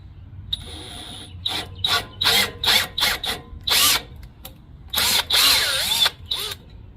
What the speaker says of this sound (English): get our T25, and we're gonna put it through this hole to put threads in it